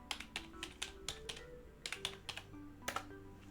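Quick bursts of typing on a computer keyboard while playing the puzzle game Lingo, crisp close key clicks in short irregular runs with brief pauses between, no talking.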